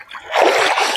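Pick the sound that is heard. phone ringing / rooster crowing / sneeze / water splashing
water splashing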